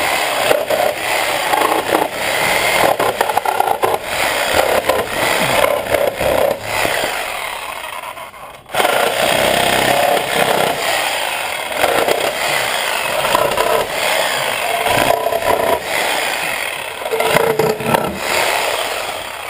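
A demolition saw rips through a hardwood pallet in a long, loud, continuous cut with gritty scraping, a brief break near the middle, then steady sawing again close to the mic.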